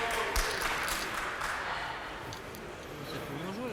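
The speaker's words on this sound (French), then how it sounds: "il y a une dame qui a compris, qui a applaudi" A single spectator claps sparsely at a PPF final, a few faint, brief claps near the start under continuous French commentary.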